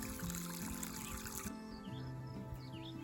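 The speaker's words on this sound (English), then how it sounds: "And I just fill the hole with water." Water is poured into a planting hole in a garden bed for tomato or pepper seedlings, a soft continuous gurgling trickle that stops partway, leaving faint outdoor ambience with birds chirping in the distance.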